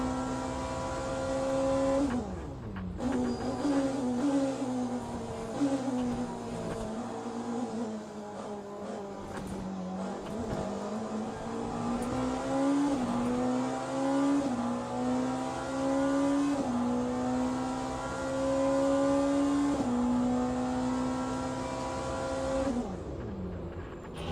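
Race cars, including Ferraris and Porsches, lapping Le Mans in Le Mans Ultimate, a close engine note climbing through gears and dropping on downshifts, with cars passing and occasional tire noise, continuous and untouched by speech.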